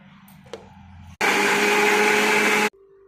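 A blender pureeing boiled tomatoes, running as a loud, steady whir for about a second and a half before cutting off abruptly, with quiet surroundings before and after.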